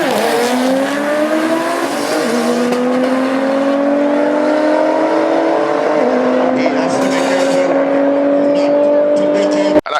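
A BMW drag racing car accelerates hard at a drag strip, its engine note climbing steadily and loud for nearly ten seconds before cutting off abruptly, with a tire squeal and crowd noise in the background.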